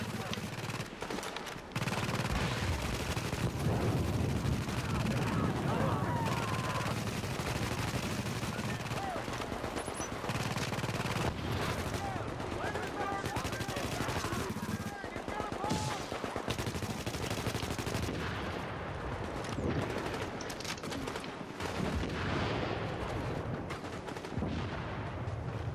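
Turret gunfire and an exploding grenade during a firefight in the video game The Division: a dense, continuous barrage of loud automatic shots that stays heavy and unbroken nearly the whole time.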